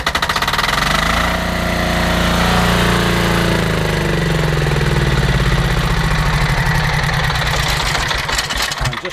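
Loncin diesel engine on a pressure washer runs steadily and loudly close by, a dense knocking diesel clatter that follows a pull-start and settles into an even idle for the whole stretch.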